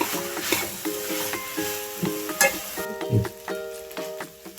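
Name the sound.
stirring banana pieces in a frying pan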